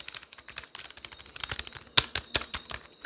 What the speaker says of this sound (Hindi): तो यहाँ पे आपको कीबोर्ड भी मैकेनिकल साउंड के साथ आता है।